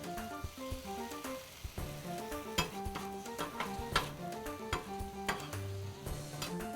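Smash burger patties pressed thin sizzle on a griddle with onions on top, a steady frying hiss with scattered scraping and ticking, under background music.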